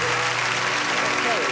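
Studio audience applause on a 1977 British television game show, dense and steady throughout at a constant level, with faint voices underneath.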